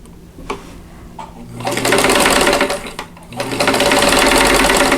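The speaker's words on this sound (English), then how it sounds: "I'm going to sew from the top center to the bottom right hand corner." Close and loud, a sewing machine stitches a quilt block square in two bursts with a short break between them, after a few soft handling clicks at the start.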